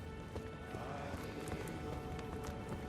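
Faint, steady clip-clop of horse hooves galloping in the video game Elden Ring, a quiet rhythmic patter running throughout without speech.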